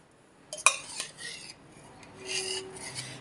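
A spoon mixes thick curd into mango pachadi in a bowl, giving a few sharp metallic clinks followed by soft scraping and stirring sounds, close and fairly quiet.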